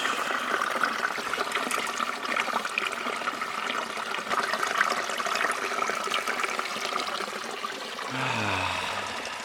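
Water flows steadily outdoors with a continuous trickling, babbling rush, fairly faint and even throughout, and a low rumble comes in near the end.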